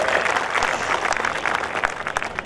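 Loud, dense audience applause with many hands clapping at once fills the whole stretch, a steady crowd roar of claps at a Hindi-Urdu poetry recital (mushaira).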